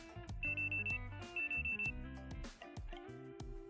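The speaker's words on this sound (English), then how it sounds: "Why do I have the feeling that that's just an alarm clock?" In-game alarm clock ringing in Goddess of Victory: NIKKE: two bursts of a steady high electronic tone, each about half a second long, sound over busy game music, loud and repeating.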